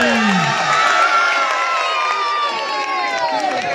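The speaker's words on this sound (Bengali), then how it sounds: "সকল করজোড়ে আরো একবার জোরে হাততালি।" Crowd of spectators at a village football match in Malatipur, Basirhat, cheering and shouting continuously with scattered applause, loud and close throughout.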